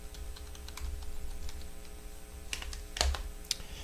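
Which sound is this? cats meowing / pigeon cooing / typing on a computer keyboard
typing on a computer keyboard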